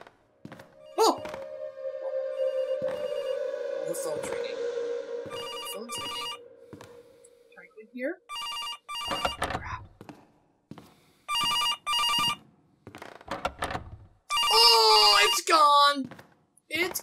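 A telephone rings out in bursts in a horror video game set inside a police station, each ring loud and clear, with a voice talking before and between rings amid thuds and game sounds.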